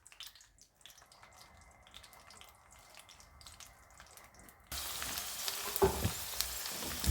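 A small amount of garlic sizzles in a pan while it cooks gently for a lemon and chili pickle, heard as a soft steady frying hiss that grows louder partway through.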